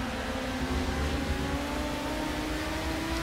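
Zakspeed Ford Capri race car accelerating hard out of a corner at Brno in Project CARS, a loud, steady rising engine whine held close throughout.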